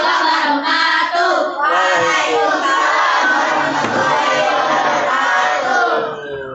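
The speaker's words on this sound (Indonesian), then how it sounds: "Tepuk tangan untuk kelompok ini." A class of sixth-grade children at the end of a classroom drama performance shouts and cheers loudly, with clapping mixed into the steady, excited crowd noise, before it fades at the end.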